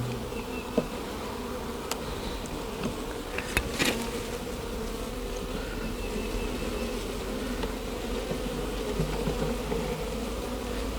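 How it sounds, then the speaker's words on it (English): Honey bees buzz steadily inside a hive holding capped queen cells, a dense continuous hum with no talking and a few faint knocks near the start. "it's supposed to have queen cells right there, so we're going to start on this end"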